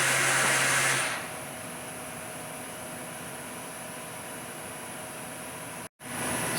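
A 2014 Star SR20J CNC lathe spindle runs at speed, a steady loud airy whir after a brief higher tone fades near the start, with a short dropout toward the end.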